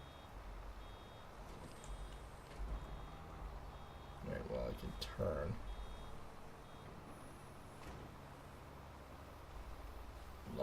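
Reversing beeps from a vehicle in Farming Simulator 22, a faint repeating electronic tone under engine rumble while someone talks over the game.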